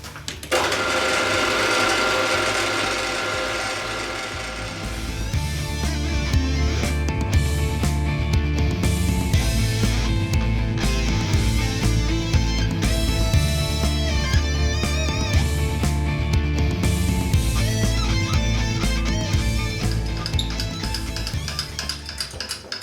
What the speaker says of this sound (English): I'll machine it down to here, so this is all the same level.